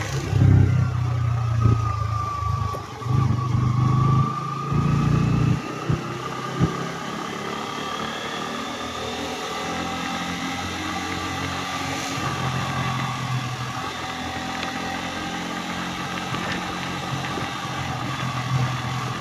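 A motorcycle cruises along a highway past Thachanallur with a steady engine drone under heavy rushing wind. A brief rev opens the ride, and then the sound settles into a constant hum.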